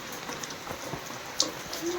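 Heavy rain pours steadily with water running off, a dense hiss close by with a few brief drips and knocks and a short low tone near the end.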